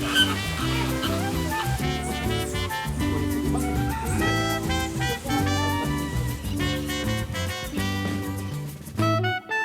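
Birds fill a park aviary housing lorikeets, parrots and flamingos. Loud, dense honking calls overlap continuously and come from close by, with no speech.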